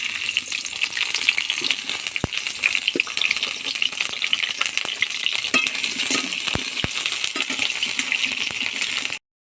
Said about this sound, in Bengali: গরম হয়ে গেছে, তেল দিয়ে দেবো, দিয়ে পটলগুলো ভেজে নেব